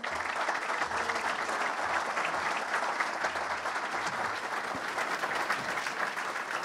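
An audience at a 24 Hours of Le Mans press conference applauds as the president of the Automobile Club de l'Ouest arrives on stage, loud sustained clapping that stays dense and even throughout.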